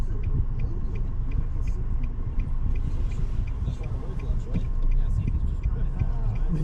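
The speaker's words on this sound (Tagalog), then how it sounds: "Medyo busy ang traffic ngayon." Steady low rumble of busy road traffic heard from inside a moving car on a holiday weekend drive, a continuous engine and tire drone with faint speech-like murmur beneath it.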